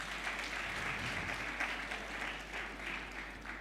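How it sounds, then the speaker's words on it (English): An audience claps steadily at a foundation's 20th anniversary ceremony. The applause is soft and distant, a continuous even patter with no voices over it. "Yes, you can clap if you'd like to."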